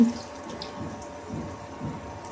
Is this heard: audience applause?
no